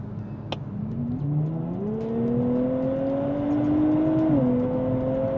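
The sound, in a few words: lightly modified 2023 Nissan Z accelerating in roll race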